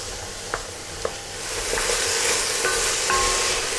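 Vegetable pieces sizzle in a pot for a beef cheek civet, a steady close frying hiss that swells after a couple of light clinks of a stirring utensil.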